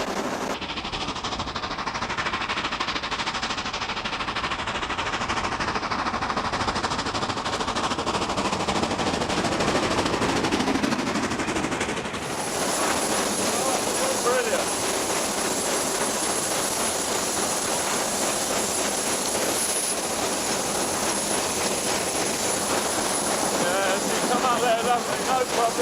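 A Black Five steam locomotive accelerating to about 50 mph, a loud, dense roar of rushing exhaust and running noise that builds and rises in pitch, with a steady high whine entering partway through, no talk.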